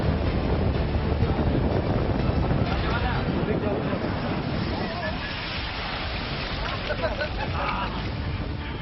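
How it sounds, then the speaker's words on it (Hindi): Heavy cyclone surf rolls and crashes steadily against the shore, a dense wash of water noise mixed with gusting wind. "समंदर किनारों पर पसरी खामोशी को चीरती लहर"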